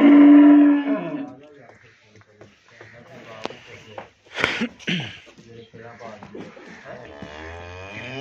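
A cross-breed cow on a Pakistani farm lets out a low, drawn moo, and someone talks at length around it, with a brief snort or sneeze-like burst in the middle.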